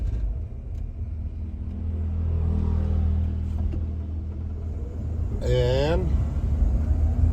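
A Ford off-road camper truck drives along with a low, steady engine rumble and road noise, a brief chirping squeal rising partway through, while a voice speaks briefly.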